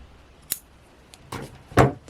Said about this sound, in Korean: 그리고는 실을 잘라주세요.